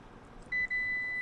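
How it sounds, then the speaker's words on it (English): Power back door on a Lexus LX 600 or LX 700h gives two short, clear electronic beeps after a kick sensor, a brief chirp then a longer tone, close by over quiet background hiss. "Listen for the beeps and step back out of the way so that the door has room to operate."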